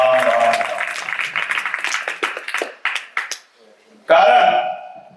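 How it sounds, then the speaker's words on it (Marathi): An audience at a spiritual satsang gathering claps to congratulate the villagers: a scattered patter of hand claps under a man's amplified speech that fades out, then his voice returns alone. "त्यांचं सर्व आपण टाळ्या वाजवून अभिनंदन करणार आहोत।"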